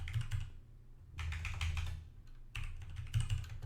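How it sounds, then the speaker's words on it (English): Bursts of typing on a computer keyboard as a command is entered on a CentOS 7.6 system, three clusters of quick clicking keystrokes close by, separated by short pauses, over a steady low hum. "what we're going to do is type in yum"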